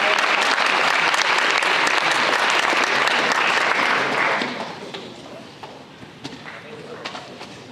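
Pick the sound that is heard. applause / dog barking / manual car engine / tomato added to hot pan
applause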